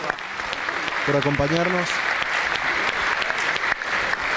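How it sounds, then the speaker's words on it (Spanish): Applause from a crowd at a working luncheon in Córdoba for an invited economist, steady and fairly close, with a brief spoken thank-you over the start of the clapping. "le brindamos un fuerte aplauso al doctor Demian Reidel"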